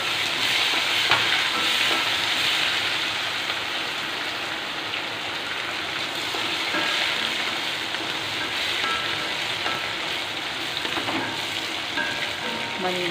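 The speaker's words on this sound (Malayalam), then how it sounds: "മുളക് ഉള്ളി ഇട്ട് കൊടുക്കുക എന്നിട്ടായി ഉള്ളിയും വെളുത്തുള്ളിയും ചതച്ചതാണ്" Chilli, onion and crushed garlic frying in a pan over a gas flame, a dense, loud sizzle with crackling spatters and bursts of stirring that carry on steadily from start to finish.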